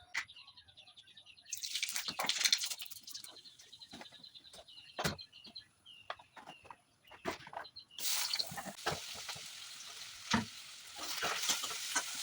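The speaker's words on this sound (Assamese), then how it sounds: "তাৰপাছত এয়া ভাজি হৈছে" Squash, potato and soybean bhaji frying in a home kitchen, a soft steady sizzle with scattered sharp clicks of stirring, turning into a louder hissing burst near the end.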